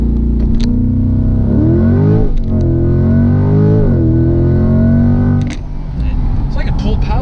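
A 2020 C8 Corvette accelerating hard on launch control, its engine note loud and close as it climbs through rising revs with a shift, a droning, distorted roar with people talking over it.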